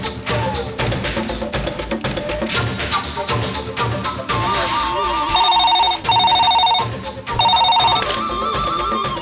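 Outgoing phone call ringing tone placed from a hospital: three or four repeated electronic ring bursts sound fairly loud over ongoing background music, with no talking.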